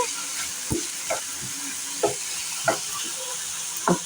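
Asafoetida and turmeric added to hot oil for a lentil and greens dish sizzle with a steady frying hiss, punctuated by a few soft taps of stirring.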